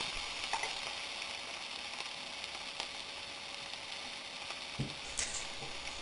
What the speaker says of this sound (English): Saute the onions until they are slightly brown.